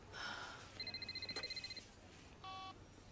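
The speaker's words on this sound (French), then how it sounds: "C'est mon téléphone." Telephone chirps and beeps in a short electronic pattern: a quick burst of rapid tone pulses followed by a brief tonal ring, fairly faint against a quiet room background.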